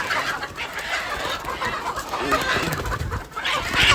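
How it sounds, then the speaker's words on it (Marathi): Free-range village chickens cluck and squawk in agitation close by as they are caught, a continuous flustered commotion with flurries of louder, alarmed calls. "कोंबड्या पकडायला लागल्यात खूप असा आवाज येत असेल तुम्हाला"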